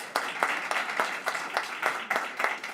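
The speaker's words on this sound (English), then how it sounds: "big applause to Sean" An audience at a personalised nutrition and public health conference session applauds with steady, fairly close clapping that rises and falls in distinct bursts, and no voices are heard.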